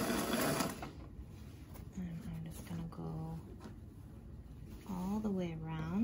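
A sewing machine runs while hemming the edge of a Regency ballgown, a continuous close mechanical hum beneath a person talking intermittently throughout.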